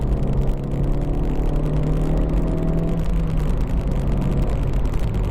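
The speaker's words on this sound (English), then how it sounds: "I'm just going to open the engine up a little bit so you can hear it." A Honda CR-Z 1.5 IMA hybrid's engine drones loudly and steadily from inside the moving car, its pitch rising briefly before easing back down.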